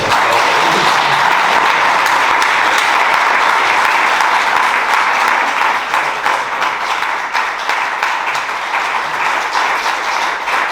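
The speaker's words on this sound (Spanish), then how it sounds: "pido un fuerte aplauso para" A large crowd at an academic lecture applauds loudly and continuously, a dense, even wash of clapping that holds steady from start to finish.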